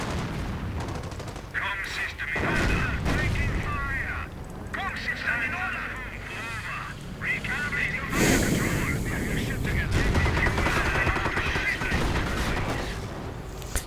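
In a World War II strategy video game, repeated gunshots, machine-gun bursts and booming artillery blasts rumble on continuously, with a commentator talking over the battle.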